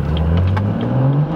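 A tuned 500-horsepower BMW M2 lets off the throttle, its engine note dropping with a raspy, burbling exhaust and a few brief pops, heard loud from inside the car.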